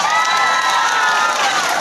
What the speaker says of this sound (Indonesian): Rame ayo bawa tepuk tangan.